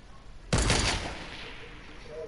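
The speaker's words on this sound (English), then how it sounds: "That was me that shot." A single loud gunshot blast in the game Fortnite, sharp onset then a long reverberant decay trailing off, with no other shots following.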